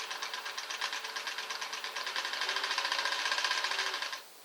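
A Singer Model 503A Special sewing machine running close up, a fast even mechanical whir and rapid ticking of the needle mechanism that winds down and stops near the end.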